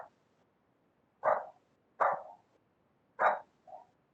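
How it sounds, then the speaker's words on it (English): A single dog barks three times in quick, spaced bursts, loud and fairly close, with a softer yip trailing the last bark and near silence in between. "Just a dog barking."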